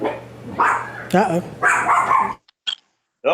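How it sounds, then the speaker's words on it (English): A dog barks a few times under a voice on a call, with the talk loud in the foreground. After that the sound drops to near silence with brief faint noises. "The minute my dog actually started barking"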